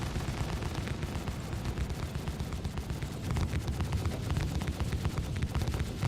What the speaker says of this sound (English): we're lighting them up with 5 guns